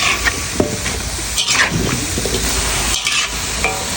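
A large pan of vegetables stir-fried over high gas heat, with loud, close sizzling and repeated scraping, tossing bursts throughout and no talk.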